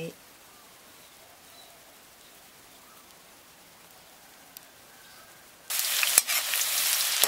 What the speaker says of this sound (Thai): นำหอมแดงที่หั่นบางลงทอดใช้ไฟกลาง ทอดจนหอม